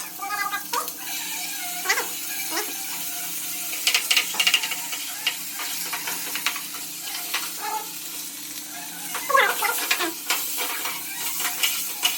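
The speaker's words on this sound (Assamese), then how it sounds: "আমাৰ কেৰাহী গৰম হৈ গৈছে আমি প্ৰথমতে দিম গাৰ্লিক" A steady sizzle of garlic in a hot wok, with brief crackles and scraping bursts throughout, loud and close.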